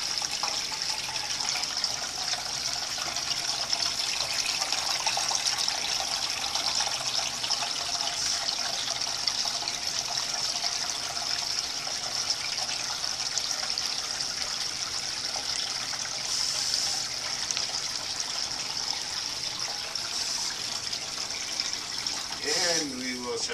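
Water rushes steadily through a gold recovery separator during a sample run, a constant loud broadband flow with no breaks, and a faint sweeping tone rises near the end.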